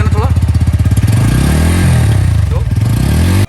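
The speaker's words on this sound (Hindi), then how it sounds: "तो एक बार आपको पहले पल्सर N150 का एग्जॉस्ट नोट सुना देते हैं।" Bajaj Pulsar N150 motorcycle with an underbelly exhaust idling and revving nearby, a steady throbbing note rising and falling through a couple of throttle blips, loud and close.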